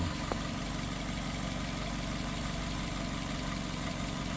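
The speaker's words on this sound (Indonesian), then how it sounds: "Mesinnya jadi super halus, injektornya saja yang jadi kencang." A 2016 Suzuki Baleno engine idles smoothly and steadily, a low even hum with a faint rhythmic pulse, close by and uninterrupted.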